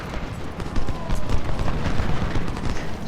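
A brigade volleying musket fire in the Ultimate General: Civil War video game, a dense, rumbling clatter of overlapping shots and booms that swells after a quieter start and stays loud and continuous throughout.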